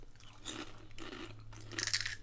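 Close, crisp crunching and chewing of a green-yellow egg-flavoured snack chip from Spain, several bites in quick succession ending in a louder crunch, with no talk.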